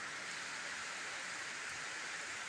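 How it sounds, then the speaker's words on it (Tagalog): Steady rain falls outdoors, an even hiss of drops that continues unbroken and faint, with no voices over it. "Ulan na din siya, guys, ang mga kuan din."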